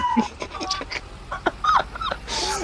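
Dogs in the Farming Simulator 22 video game, a string of short yips, whimpers and barks at moderate distance, irregularly spaced, with some bird-like chirps mixed in.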